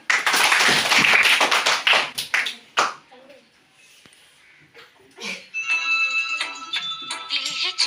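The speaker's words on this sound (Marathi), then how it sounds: "टाळ्या वाजवा एकदा" A group of children clapping in a classroom: dense, loud clapping for the first few seconds, then a pause with scattered taps and voices, and a beeping tone near the end.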